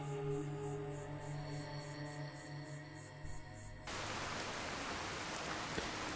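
Heavy rain in Fallout 4 sets in as a dense, steady hiss after a few seconds of droning ambient tones, loud and unbroken to the end.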